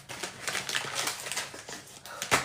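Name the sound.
cough drop wrapper being opened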